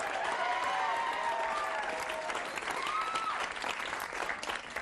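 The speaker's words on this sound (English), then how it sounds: "If you're watching in Oregon, we're applauding." Studio audience applause during a late-night comedy monologue, a steady, full roar of clapping that fills the whole stretch and tapers slightly near the end, with faint voices beneath.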